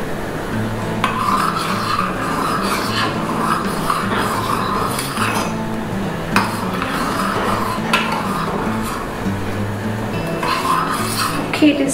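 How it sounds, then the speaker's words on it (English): Harira soup simmering in a pot on a gas stove, stirred steadily with scraping and clinking of a utensil against the pot, continuous and close, with some faint talk underneath. "we need to see that we keep stirring it"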